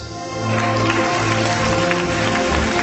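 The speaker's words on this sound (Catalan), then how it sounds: "Fort l'aplaudiment per l'Àlex" An audience at a magic show applauds the volunteer, clapping swelling up after a brief quieter start and then holding as a broad, steady wash of crowd applause.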